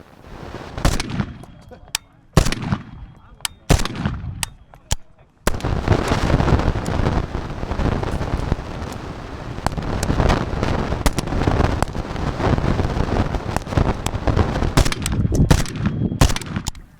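Rifle fitted with a Battle Arms trigger fired at a night shoot: a few separate loud cracks, then a dense run of rapid, echoing shots continuing to the end.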